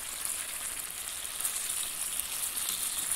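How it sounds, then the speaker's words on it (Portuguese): Chicken pieces frying in a pan give a steady, close sizzle with crackling spatter throughout, no voices over it. "E aqui tem um franguinho fritando aqui."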